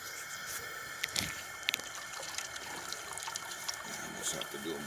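Heated water sloshes and trickles around ducks being scalded for plucking on a homestead butcher day, a steady watery wash with a few sharp splashes, while someone talks.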